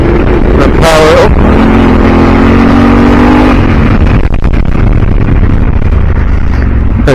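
Trail bike engine revving up on a trail at an event, a loud rising engine whine that holds and then drops away under heavy wind noise, with a brief voice early on.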